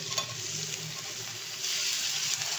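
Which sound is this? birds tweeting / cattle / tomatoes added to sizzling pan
tomatoes added to sizzling pan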